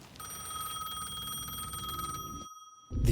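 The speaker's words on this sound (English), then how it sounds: "The payphone was ringing again." A payphone rings in the video game Alan Wake II, a steady electronic bell tone that sounds for over two seconds, cuts off, and is followed by a brief louder noise.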